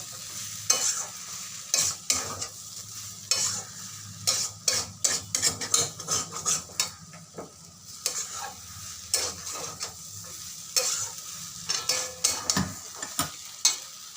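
A spoon stirs spiced curry with garam masala in a frying pan, giving repeated scraping clinks against the metal over a steady low sizzle of frying, close and fairly loud, with no talking.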